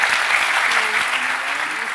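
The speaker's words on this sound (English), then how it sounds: "how about a round of applause, please, for our defending champion?" Audience applause for the defending champion at a women's professional golf championship, a dense, continuous wash of clapping heard from a distance with a few faint voices beneath.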